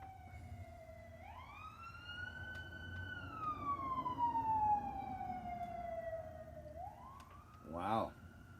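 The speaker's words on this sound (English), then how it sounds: "There we go, sirens again." Emergency vehicle sirens wailing through a small town, a clear rising and falling tone that swoops up, holds, then slides down, followed by a brief burst of rapid yelp near the end, with traffic rumble underneath.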